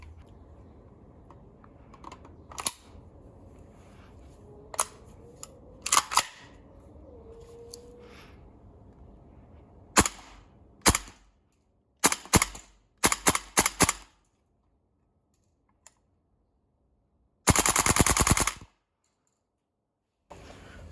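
AK gas blowback airsoft rifle set to semi-auto firing a series of sharp single shots, spaced irregularly at first then in quicker bursts, with a longer crackling volley near the end, each crack loud and close in a quiet room.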